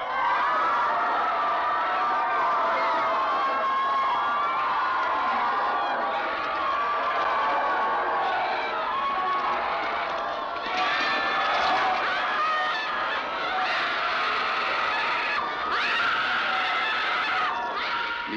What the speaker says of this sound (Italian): L'isterismo collettivo di questa folla che grida e si contorce in una chiesa sconsacrata del Cilento